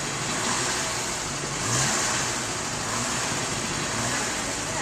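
A 2006 Mitsubishi Eclipse GS, fully built, runs steadily at its first start-up in a garage, a loud continuous engine drone with a slight swell in throttle midway and no talk.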